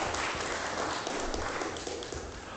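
Dense, steady applause from a church congregation, many hands clapping at once in a continuous wash that fades slightly toward the end, with no voices over it.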